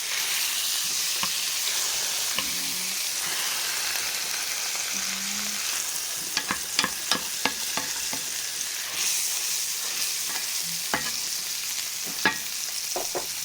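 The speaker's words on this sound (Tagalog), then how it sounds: "Pero ako gumamit ako ng butter. Paka-brown ko lang siya ng ganito." Butter browning in a pan, a steady bright sizzle with scattered crackling pops and a few soft clinks of a utensil against the pan.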